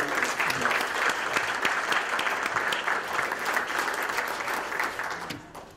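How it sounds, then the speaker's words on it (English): A breakfast audience in Nashua, New Hampshire gives a big round of applause, dense steady clapping that carries loud for several seconds and then tapers off at the end. "Please give yourselves a big round of applause"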